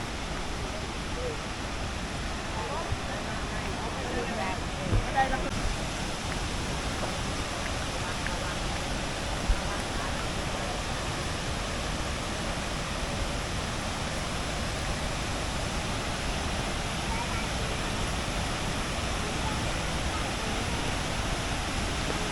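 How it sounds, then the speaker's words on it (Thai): Kuang Si waterfall near Luang Prabang, Laos, pours in a steady, dense broadband rush that holds evenly for the whole stretch with no breaks. "เดี๋ยวผมพาไปบึง จุดที่น้ำตก ไหลลงนะครับ เห็นละอองน้ำ"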